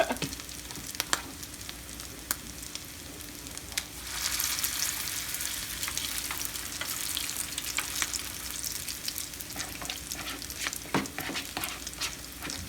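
Salmon croquettes fry in a pan, a steady, fairly quiet sizzle and crackle that swells in the middle, with scattered sharp pops and faint clicks throughout.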